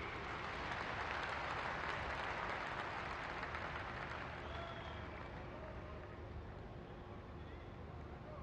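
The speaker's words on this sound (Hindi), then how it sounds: "आपकी जोरदार तालियों के बीच" Loud, sustained applause from a large crowd at an Indian official ceremony where the Prime Minister unveils a postage stamp, a dense continuous clapping wash that slowly fades slightly toward the end.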